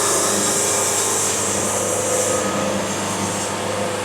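Portable sawmill blade cutting through a hardwood log, a steady loud broadband grinding roar that holds without a break, with no speech.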